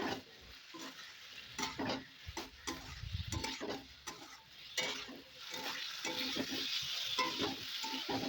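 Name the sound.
fried potatoes and okra stirred into spice masala in pan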